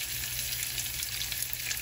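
Urad dal, mustard seeds, green chilies, curry leaves and asafoetida frying together in hot oil for rava upma, a steady bright sizzling crackle, close and continuous without voices.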